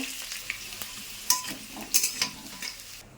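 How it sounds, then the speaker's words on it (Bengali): Potatoes frying in hot oil, sizzling steadily up close, with occasional scraping clinks of a utensil stirring the pan; no talking. "বসিয়ে দিয়েছি মাংসের আলুটা একটু ভেজে লাল লাল করে তুলে নেব"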